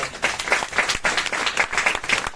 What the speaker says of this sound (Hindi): तो एक बार सरकार के लिए भी जोरदार ताली बजा दी।